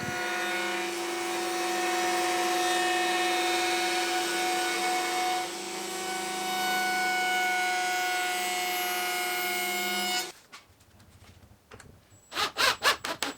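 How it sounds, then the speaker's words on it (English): Router at a router table shaping wooden chair leg pieces against a template, a loud steady whine with cutting noise for about ten seconds, then cutting off, followed by softer handling clatter and a few sharp knocks. "take it over to the router table and route them down to their final shape"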